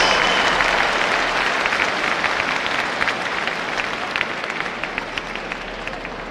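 Audience applause welcoming Reverend Franklin Graham to the stage at a festival in Hanoi, a full, steady wash of many hands clapping that eases gradually toward the end, with individual claps standing out as it thins.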